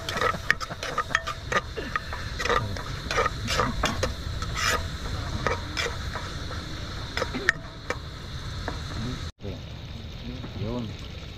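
Onions frying in a pan during an overnight fishing trip give a steady hiss and sizzle with scattered clicks and stirring, while people talk nearby.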